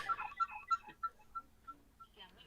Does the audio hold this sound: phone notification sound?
yes